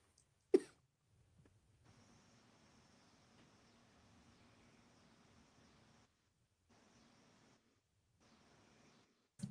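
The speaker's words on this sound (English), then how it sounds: "Sorry, I was coughing." A single sharp cough sounds close and loud at the start, followed by faint background hiss and another brief burst at the end.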